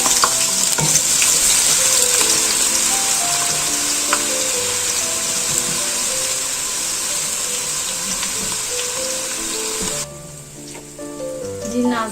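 About a cup of onions fry in a generous amount of ghee, giving a loud, continuous sizzle with occasional stirring scrapes and soft music behind; the frying drops away sharply near the end.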